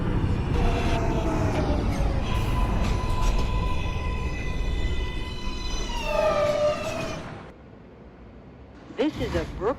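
Simulated NYC Subway R143 train on a Brooklyn-bound J local in the OpenBVE game, a steady rolling rumble with rising and falling whine tones that drop away near the end, then brief clicks; a voice speaks over it.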